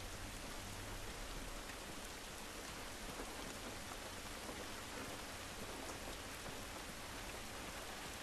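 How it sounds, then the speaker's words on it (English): Steady, dense rain drumming on a car in the video game The Last of Us Remastered, a continuous close hiss of drops with a low rumble underneath, no voices. "The way the rain's hitting the car is a beautiful sound it's making."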